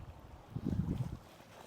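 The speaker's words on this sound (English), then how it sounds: "I can hear the wind." Wind blowing outdoors, a soft low rumbling gust that swells briefly in the middle and then eases back to a quiet, steady background.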